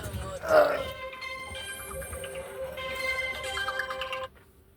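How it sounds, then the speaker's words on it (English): A mobile phone with a broken, blacked-out screen rings nearby, playing a steady melodic ringtone for several seconds before it cuts off abruptly. "let's wait on this phone to stop ringing for just a second"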